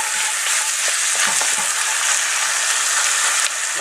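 Beef sizzles loudly in a pot as it is stirred, a dense, steady frying hiss with faint scraping from the spoon, close up and continuous.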